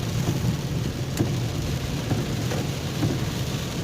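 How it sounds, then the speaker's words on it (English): Rain beats steadily on a car during a lightning storm while driving home, a dense constant roar with faint rumbling low underneath and no voices. "Just rain, lightning."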